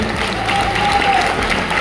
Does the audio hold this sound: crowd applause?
yes